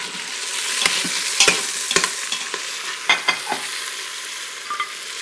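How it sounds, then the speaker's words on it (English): Goat meat searing in a pan for Jamaican curry goat gives off a constant close sizzle, cut through by repeated sharp scrapes and taps of a utensil turning the pieces. "I'm pretty much satisfied with where these are currently for their searing status."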